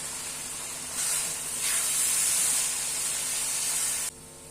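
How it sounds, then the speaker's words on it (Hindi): Half a cup of milk hits hot semolina halwa in the pan, giving a steady, loud hissing sizzle that swells slightly and carries on for about four seconds before cutting off abruptly to quieter background. "ये जी हाफ कप दूध है, ये डालेंगे, अच्छे से मिक्स कर लेंगे।"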